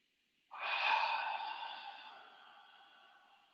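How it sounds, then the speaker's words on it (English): A single long ujjayi yoga breath begins abruptly, a breathy hissing rush through a constricted throat that swells and then slowly fades over a few seconds, close and alone. "ujjayi breathing, great way to stay present."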